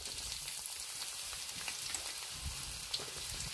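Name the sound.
onions frying in oil in a kadhai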